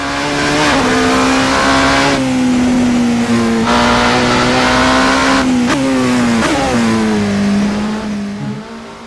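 A loud Vanwall hypercar engine in the racing game Assetto Corsa howls steadily near the microphone, its pitch rising and dipping through gear changes, with no talking.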